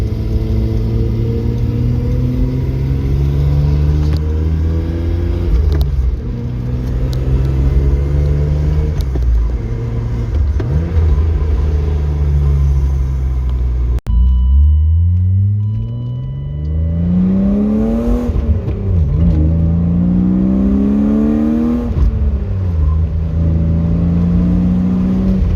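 BMW E36 M3 with a short shifter installed, heard from the cabin while driving: the engine climbs and drops through gear changes, with a brief lift between shifts, then revs up strongly again under constant road rumble.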